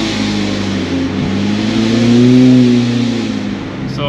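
Tuned McLaren sports car with an aftermarket engine map, revving in neutral: a loud, close engine note climbs to a peak near the middle, then settles back toward idle.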